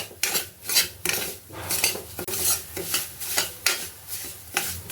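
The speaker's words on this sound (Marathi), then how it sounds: "रवा वाजताना आपण गॅस मिडियम टू फास्ट ठेवायचा आहे आणि सतत हलवत राहायचं आहे" A utensil scrapes and stirs semolina dry-roasting in a pan over medium-high heat for kheer. Rhythmic metallic strokes repeat about twice a second, close and fairly loud, with a faint sizzle underneath and no voices.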